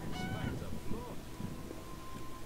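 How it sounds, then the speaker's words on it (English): Geese honking in a village in The Witcher video game, a few short nasal honks early on over steady ambient background noise, moderately near. "I'm entering a village with geese!"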